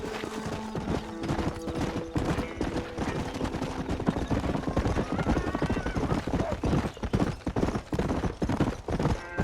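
Horses gallop in the western video game Red Dead Redemption, with dense, rapid hoofbeats running steadily and loudly through the whole stretch under a low background score.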